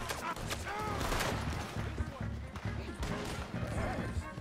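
Gunfire erupts in a Red Dead Redemption 2 shootout, with repeated sharp shots and crashes packed together over a busy, loud game mix, and voices talking throughout.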